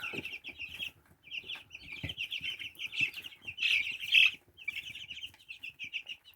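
Newly hatched chicks in an incubator cheep in high, rapid peeps that come in dense bursts with short pauses, close and fairly soft, with faint rustling and scratching underneath and no voices.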